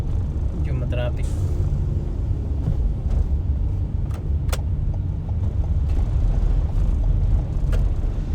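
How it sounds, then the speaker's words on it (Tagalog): Road traffic heard from a motorcycle in Taguig, with a continuous engine and traffic rumble, passing vehicles and a few short hissing bursts like air brakes, while a voice talks over it. "Traffic."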